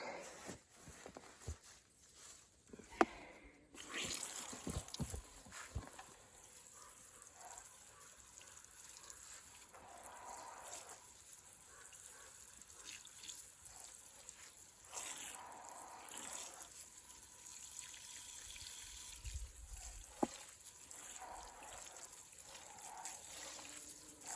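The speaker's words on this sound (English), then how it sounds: "Then we're just going to water this in." Water poured over a newly planted lemon balm in a garden, a soft, continuous trickle and splash that starts after a few seconds and runs faint and steady, with occasional light rustles and footsteps nearby.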